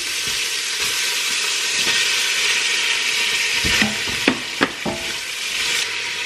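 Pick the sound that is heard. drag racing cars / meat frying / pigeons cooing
meat frying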